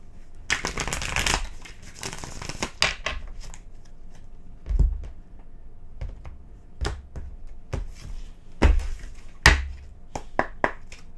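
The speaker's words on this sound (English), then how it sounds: "One more shuffle here." Tarot cards being shuffled up close: a couple of long riffling bursts, then scattered taps and quick flicks as the deck is handled and squared.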